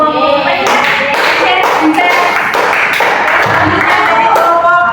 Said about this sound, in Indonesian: Tepuk tangannya untuk kelompok